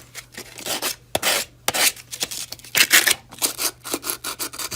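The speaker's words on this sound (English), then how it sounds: "I can use a block sander to just go around" A block sander rubs along the edges of a horizontal support grip to smooth away burrs, making a close rasping scrape in uneven short strokes with brief pauses between them.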